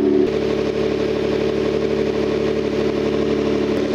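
A steady, low engine idle of a 2005 Hyundai Grandeur TG rumbles evenly throughout, with no revving and no voices, close and constant.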